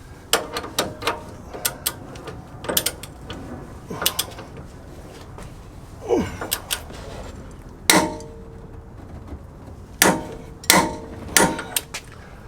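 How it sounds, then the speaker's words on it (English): A torque wrench tightens the upper ball joint nut on a Land Cruiser 100 with an SPC upper control arm, giving sharp metallic clicks and knocks in irregular bursts, close and fairly loud, with no talking. "I'm going to go ahead and torque the upper nut to 200."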